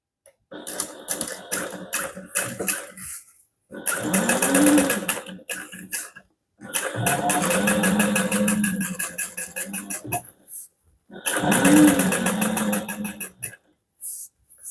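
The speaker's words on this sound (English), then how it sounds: "press the interior top up and away from the interior main and top stitch again beneath that seam." Sewing machine top stitching an interior seam on a handbag, running in four loud bursts of rapid, even needle chatter separated by short pauses, close to the mic with no talking.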